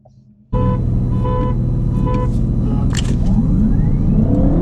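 A sports car engine revs up sharply and roars loudly as it launches hard in a street race, climbing steadily in pitch with a continuous strong drone.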